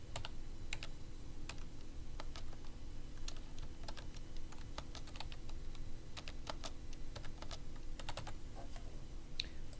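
Steady typing on a computer keyboard, answering math questions in a OneNote notebook: a continuous run of close, crisp key clicks with uneven rhythm over a low background hum, no voices.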